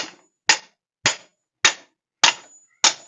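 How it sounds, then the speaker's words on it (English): Five sharp, evenly spaced taps of a tool driving a painted rear brake part into place on a 1966 Dodge Charger with a 318; loud, close, and separated by silence. "Sometimes you can even give it a little love tap and she'll pop in."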